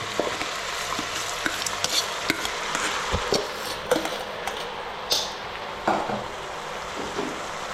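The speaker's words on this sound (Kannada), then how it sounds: "ಇದಿಷ್ಟು ಹಾಕ್ಕೊಂಡು ಇದ್ರ ಜೊತೆನೇ ಹಿಂದೆನೇ ನೀವು ಅಕ್ಕಿನೂ ಹಾಕ್ಕೊಂಬಿಡಿ" Rice being stirred into a sizzling spice masala in a pan for bisi bele bath, with steady frying hiss and repeated scraping, clinking strokes of a spoon against the pan, close and fairly loud.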